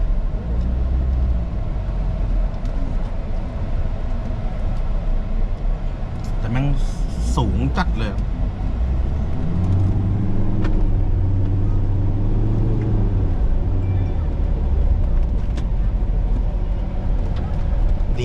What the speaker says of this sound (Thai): ตอนนี้เราก็ได้ขึ้นมาอยู่บนรถ Ford Ranger เป็นที่เรียบร้อยนะฮะ